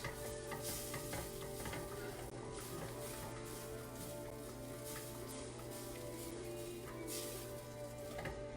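Butter melts and sizzles softly in a pan over a propane stove on low heat, a steady faint crackle with occasional light stirring scrapes and no talking.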